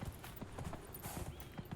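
Rhythmic clip-clop of horse hooves while riding in Dragon Age: Inquisition, a steady quick gait of soft thuds repeating under a busy game soundscape, fairly quiet overall.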